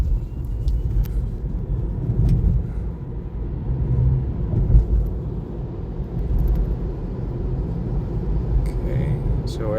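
A Tesla driving itself on supervised Full Self-Driving at night, a steady low road rumble and tire noise heard from inside the cabin, continuous and fairly loud throughout.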